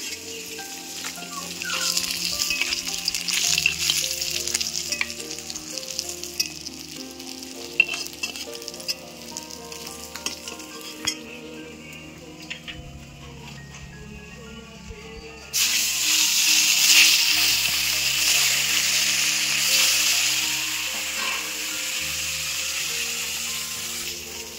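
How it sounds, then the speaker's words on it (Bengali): Steady crackling sizzle of katla fish frying in hot oil, fairly loud and continuous, briefly quieter midway before surging back stronger. "মাছগুলো এগুলো ভাজা হয়ে গেছে, আমি তুলে নিচ্ছি।"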